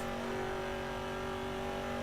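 Race car engine in TOCA Race Driver 3 hums at steady high revs in fifth gear, a constant tonal drone with road and tire noise underneath, with no talk.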